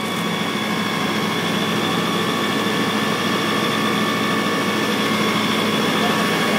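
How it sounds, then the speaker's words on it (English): A mobile Level 3 EV charging vehicle's diesel engine runs steadily at about 1600 RPM, a constant, even drone with a fixed tonal hum, moderately loud and unchanging throughout. "It's designed just to run as a normal diesel engine, running at about 1600 RPM, roughly."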